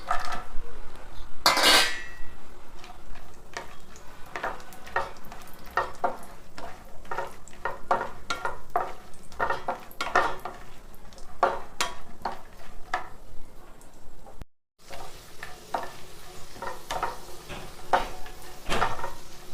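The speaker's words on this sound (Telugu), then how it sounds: "జీడిపప్పులు కిస్మిస్లు ఇవన్నీ మంచిగా వేగినాయి." Cashews and raisins fry in a pan over low heat with a steady sizzle, while a spoon repeatedly stirs and scrapes against the metal in quick irregular clinks, close and clear throughout.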